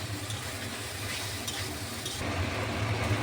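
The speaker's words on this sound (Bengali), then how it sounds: "এ দেখুন এখন আমি একটু ভাজা ভাজা করে নিলেই হয়ে যাবে।" A paste of green banana and bitter gourd mixed with rice flour fries and is stirred in a pan, giving a steady soft sizzle with faint scraping that grows slightly louder toward the end, with no voices.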